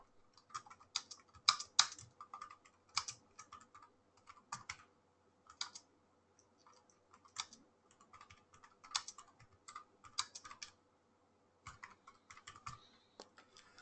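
Bursts of typing on a computer keyboard, quiet clicky keystrokes coming in short irregular runs separated by brief pauses, with no voices.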